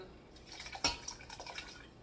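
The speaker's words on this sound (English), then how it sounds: "So these are my 2 cans with the juice. And so we're going to pour all of that into" Canned clam juice from two cans poured into a cooking pot for clam chowder, a brief liquid splash and dribble peaking midway, fairly faint and heard alone.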